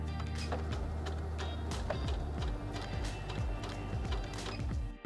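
Heavy Duty HD6805C sewing machine stitching at low speed, a steady mechanical chatter of needle strokes and gears running continuously up close, with no voices.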